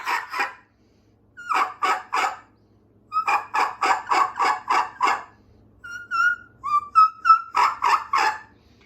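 Rhythmic series of high-pitched yelps from an HS Strut Flex turkey mouth call, grouped in short runs with a few thinner whistly notes between, close and fairly loud without speech.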